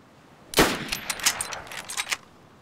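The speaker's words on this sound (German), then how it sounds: "ich höre hier auch M4-Schüsse" Rifle gunfire from an M4 in the video game DayZ, set in Berezino: one loud close shot followed by a ragged burst of several quicker shots over about a second and a half, then quiet.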